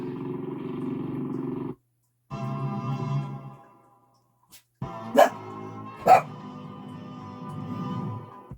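A real dog barks twice in quick succession, sharp and fairly close, over stereo music playing on a restored Dual CS 503-1 turntable.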